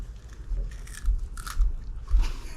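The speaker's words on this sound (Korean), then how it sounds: "서우 과자 맛있어?" A young child crunching and chewing snacks up close, with a few rhythmic bites and crackly munches over low background noise.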